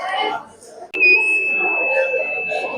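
A buzzer on a homemade rain detector science exhibition project switches on with a sharp click and holds a steady, high-pitched continuous tone, while voices talk nearby.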